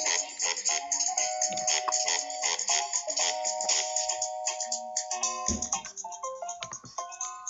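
A song plays from a recording as a bright, tonal melody with a quick plucked rhythm, moderately quiet and without speech.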